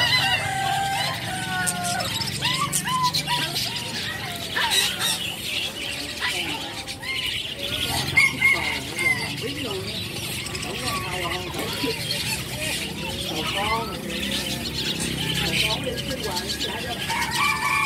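Inside a bird shop, many caged birds chirp, whistle and call continuously, with a rooster-like crow among them, while a person talks over the busy chorus.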